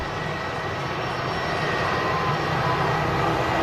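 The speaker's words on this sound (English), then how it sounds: "Just as this EasyJet A380 taxis past." An EasyJet airliner taxiing past at Manchester Airport gives a steady, broad engine roar, close and continuous throughout, with no voices.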